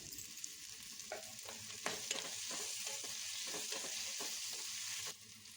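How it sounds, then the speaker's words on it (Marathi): Chopped tomatoes cook with whole spices in a pan, giving a soft, steady sizzle. A spoon clacks and scrapes through them in a quick stirring rhythm, and no one talks. "खडे मसाले मिक्स करून झाल्यानंतर त्यात कट केलेला टोमॅटो टाकून शिजवून घेतला आहे"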